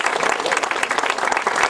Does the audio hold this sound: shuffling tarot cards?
no